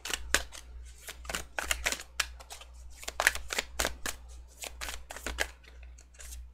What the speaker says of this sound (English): And I followed it by an equally terrible shuffle again.